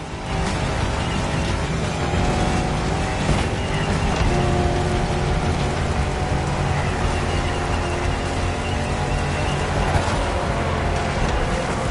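A 4x4 car in The Crew Motorfest races through Hawaiian jungle, its engine a loud, steady, sustained roar with a constant dense rumble and no clear breaks.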